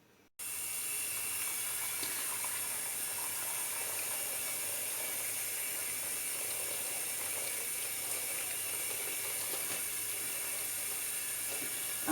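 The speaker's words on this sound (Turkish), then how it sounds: "Arkadaşlar meyvelerimi yıkıyorum gördüğünüz gibi." Apples washed under a running sink tap, a loud steady hiss of flowing water that starts abruptly and continues unbroken with faint clatter underneath.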